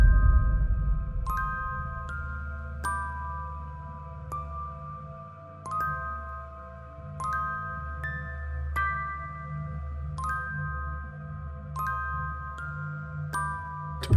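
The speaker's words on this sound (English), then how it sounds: "This cat's bell is jingling." Small bell on a cat's collar jingling in short, bright tinkles at irregular intervals, faint against a quiet room with low background hum.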